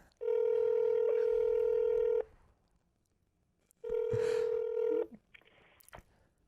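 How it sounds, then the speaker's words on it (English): A telephone call being placed: two long, steady electronic tones, the first about two seconds and the second about one, separated by a short quiet gap, loud and close with no talking. "We gotta place a little call to Kentucky."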